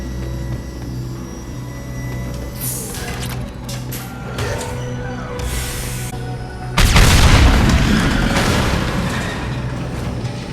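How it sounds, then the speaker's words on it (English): Fuel tanks blowing up in the video game Mass Effect 2, a loud deep boom with crashing debris that rises sharply partway through over a steady game background rumble and scattered smaller impacts. "These are full of fuel. It's easily enough to blast through the wall."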